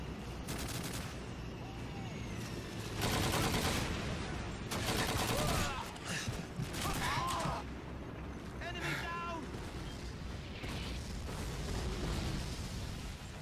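Gunfire in the World War II shooter Call of Duty 2 on a veteran playthrough, a dense fusillade of loud rifle and machine-gun bursts with explosions, under shouted voices and battle noise.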